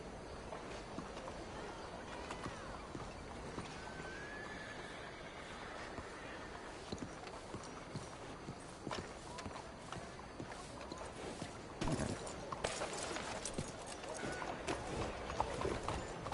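Steady horse hoofbeats clip-clop along at a walking pace in Red Dead Online, moderately loud, with a soft voice and ambient game sounds mixed in.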